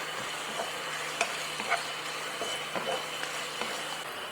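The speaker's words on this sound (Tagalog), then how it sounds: "Haluin natin." Chicken frying in a pan being stirred, a steady sizzle with scattered scraping and clicking strokes from the utensil, moderately close and without talk.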